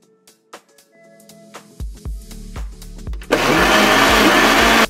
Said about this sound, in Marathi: त्यानंतर त्यातलं सगळं पाणी काढून टाका आणि मिक्सरमध्ये फिरवून घ्या